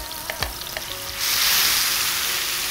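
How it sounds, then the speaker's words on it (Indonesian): Chili spice paste hits hot cooking oil in a pan for sautéing: a few light taps and clatters, then a sudden loud, steady hissing sizzle that continues close up, with no talking. "Dan ini kita tumis dulu ya sobat."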